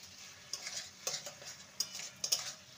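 Egg and bottle gourd curry sweetened with sugar gets stirred in a pan, with soft, quiet sizzling punctuated by four or five distinct metallic scrapes and taps of a spoon.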